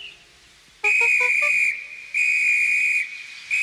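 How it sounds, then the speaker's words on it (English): A conductor's railway whistle blown in long shrill blasts, loud and close, three sustained tones with brief gaps, the first opening with a warbling trill. "The conductor blew his whistle till he had no more breath"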